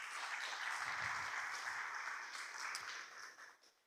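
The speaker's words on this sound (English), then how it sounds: "So big round of applause for Nick Bernal." Applause from a conference audience at a mango event, a steady wash of clapping that holds for a few seconds and then fades out toward the end.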